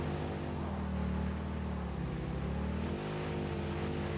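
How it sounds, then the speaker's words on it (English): Vehicle engine in the video game Satisfactory, revving hard and stuck in a low gear, a constant loud droning whine with a slight shift in pitch partway through, steady throughout with no talk. "Sorry to make you listen to horrible revving engine sounds first thing in the morning."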